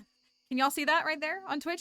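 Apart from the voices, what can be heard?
ambient crickets in video game Stardew Valley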